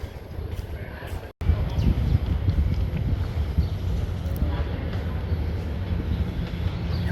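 A Thai train pulls slowly into a station on the Udon Thani to Nong Khai line, a steady low rumble with wind buffeting the microphone, continuing loud and unbroken after a brief dropout.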